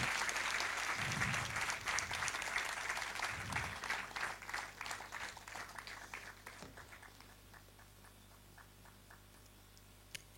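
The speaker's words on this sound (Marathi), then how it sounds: "जोरदार टाळ्या या दोघांसाठी तुम्ही वाजवल्या पाहिजेत" Audience applause for two guests at a Kojagiri 2025 event in Nagpur, a loud crowd of clapping hands that thins out and fades to scattered claps over about ten seconds.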